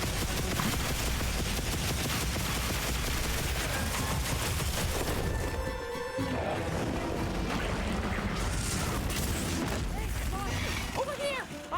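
Rapid bursts of gunfire from a Dragon Augur bowgun in Monster Hunter Wilds crackle loudly and almost continuously, with a brief pause midway, over dense game sound and occasional voice.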